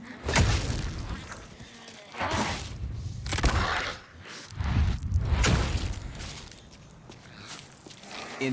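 Video game explosions in Dead Island 2, heavy booming bursts with low rumbling thuds, several loud blasts swelling and fading across the stretch amid game noise.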